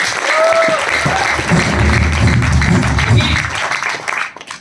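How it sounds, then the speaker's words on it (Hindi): An audience at a direct-selling business event bursts into loud, dense applause that holds steady, with faint voices and low music underneath before fading at the end. "प्रणव पांडे सर के लिए तालियां बननी चाहिए"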